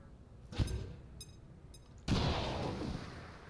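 A regular grenade detonates in the turn-based tactics game XCOM 2 Long War of the Chosen: a sharp blast near the start, small clicks, then a second heavier boom with a rumbling tail.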